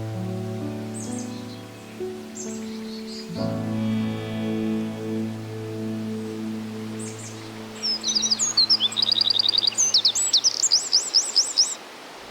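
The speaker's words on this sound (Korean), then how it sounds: "목청껏 노래하는 새들의 배경음악은" Birds sing and chirp around Baekyangsa temple in spring, with scattered calls early and a busier run of rapid, repeated tweets toward the end over a steady low background hum.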